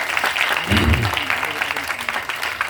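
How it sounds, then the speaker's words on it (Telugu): Church congregation clapping for musicians during a service in Kakinada, a dense, steady round of applause throughout, fairly loud and close, with a voice briefly audible underneath. "అలాంటి ఒక శ్రేష్ఠ సంగీతాన్ని అందిస్తున్న వారికి మనం చప్పట్లు కొట్టి దేవుని మహిమపడతాము."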